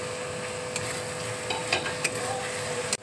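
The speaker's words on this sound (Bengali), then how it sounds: "মশলাটা দেখো ভাজা হয়ে গেছে, এবার আমি ফুলকপিটা দিয়ে দিচ্ছি" Raw cauliflower goes into a pan of fried spice mixture with sugar and raisins and is stirred, giving a soft sizzle with scattered scraping stir strokes near the close, without any talk.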